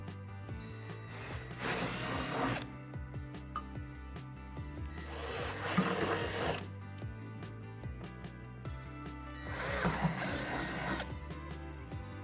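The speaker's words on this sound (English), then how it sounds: "So drill out these 3 holes from underneath the deck." Power drill boring holes up through the underside of a Lifetime Adventure Tunnel swing set deck during assembly, three loud separate bursts of whirring over a steady background hum, each lasting about a second.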